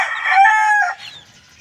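A white jacket Kelso cross gamefowl rooster crows once, close and loud, the call trailing off into a softer tail.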